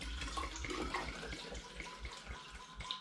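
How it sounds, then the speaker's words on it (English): Homemade hard cider made from apple juice pours into a hydrometer jar, a continuous close splashing trickle of liquid that gurgles steadily throughout. "I now need to pour some of this cider into the hydrometer jar."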